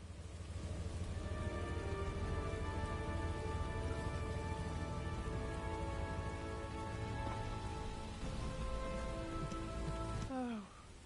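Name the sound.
rain falling in video game The First Descendant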